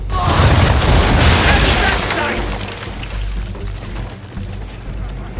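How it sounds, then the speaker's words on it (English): Cannon broadside from a sailing warship in Assassin's Creed 3: a loud, heavy rolling boom in the first two seconds, fading into a long rumbling tail with a wash of sea and wind noise. "broadside, and when all guns are on target, call fire"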